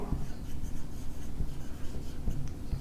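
Pen or pencil writing out an English grammar exercise on paper, short scratchy strokes in a quick uneven rhythm, close and fairly quiet.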